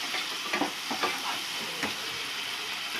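Tomato and onion paste stirred into a frying prawn curry, giving a constant close sizzle with a few soft spoon scrapes and bubbling pops over three seconds.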